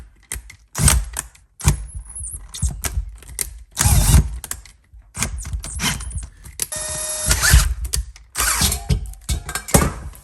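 A power drill bites into a steel weld in a motorcycle workshop, loud intermittent bursts of grinding and whirring separated by short pauses, with a shrill squeal in one run.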